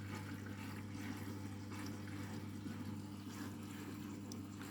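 Water rushes steadily into the drum of a Candy washing machine filling for the final rinse on a cottons cycle, a continuous close hiss over a low, even motor hum, with no talking.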